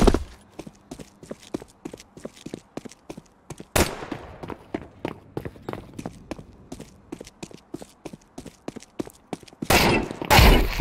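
Counter-Strike 2 gunfire, played with a controller, pops in rapid, evenly spaced single shots throughout, broken by two louder, broader bursts near four and ten seconds.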